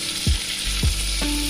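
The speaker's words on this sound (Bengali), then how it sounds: "পেঁপেগুলো দিয়ে এটাকে আমি 2 মিনিট মতো নাড়িয়ে নেবো" Papaya pieces fry in a pan for a fish curry, giving a continuous close sizzle broken by two or three scraping stirs of a spoon against the pan.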